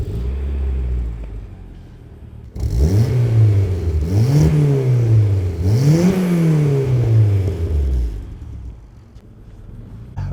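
A turbocharged Honda S2000 with a custom 3-inch exhaust idles low, then revs hard three times in rising and falling sweeps, loud and close, before settling back to a rumbling idle.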